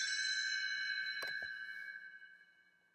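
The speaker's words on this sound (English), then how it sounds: "You'll know it's time to turn the page whenever you hear the chimes ring" A bright chime rings out and sustains, its clear tones slowly fading, with a soft knock partway through.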